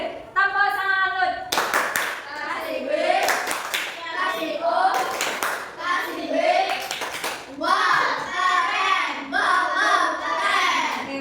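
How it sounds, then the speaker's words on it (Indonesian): A primary-school class claps for a group at the teacher's prompt, with bursts of brisk applause from many hands alternating with children's voices and talk in a classroom. "Biar kita berikan tepuk tangan kepada kelompok lavender"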